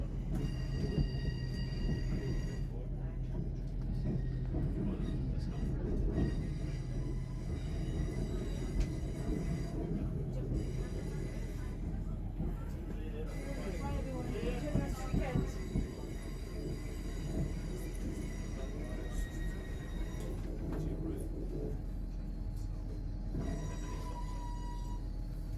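An LNER Azuma train pulls out of Newcastle station on the East Coast Main Line, heard from on board as a sustained low rumble with tonal hums, wheel clatter and occasional squeals building over time, no voices.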